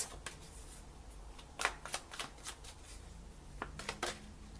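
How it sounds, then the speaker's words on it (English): Tarot cards are riffled and shuffled close up in a quiet room, with several quick bursts of crisp card flutter and snapping, one card flipping over, no voice heard. "Okay, you had a card flip over."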